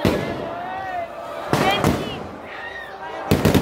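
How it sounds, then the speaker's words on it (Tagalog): Fireworks crackle and pop at a Philippine town fiesta, with sharp bursts over a continuous roar of crowd noise and excited voices talking throughout. "Bayang fireworks."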